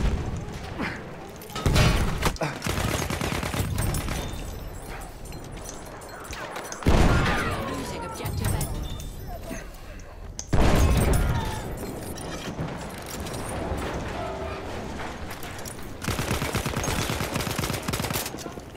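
Battlefield 1 gunfire crackles through a hectic match, with bursts of automatic fire, single heavy shots and thudding impacts coming in uneven clusters, loud and close, with occasional voices mixed in.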